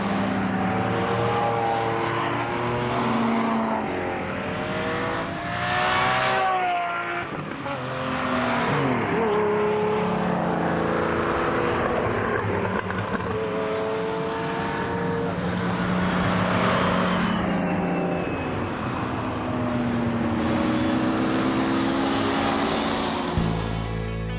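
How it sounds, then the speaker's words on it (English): A long procession of Lamborghini cars passing one after another, loud engine roars swelling and fading as each goes by, with revving and some tire noise, no speech over it. "to hear nearly 100 Lamborghinis go by, just incredible"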